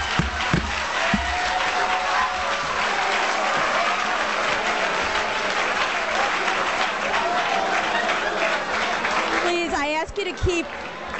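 Loud, sustained applause from an audience at a political press event, dense clapping and crowd noise that continues throughout, with a voice cutting in near the end.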